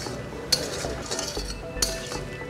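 A spoon stirs pepper chicken in a pan, scraping softly with two sharp metallic clinks against the pan.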